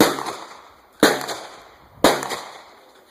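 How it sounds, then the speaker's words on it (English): At a shooting drill, sharp pistol shots crack out one by one, spaced about a second apart and fairly close, each decaying quickly, with no voices between them. "Now give me the same 4 shots with your support aim"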